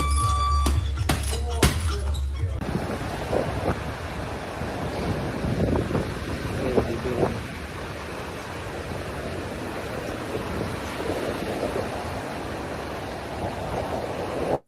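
Wind and surf on a beach, a continuous rushing roar of waves and gusts that carries on steadily, preceded by a few seconds of loud music-like sound at the start.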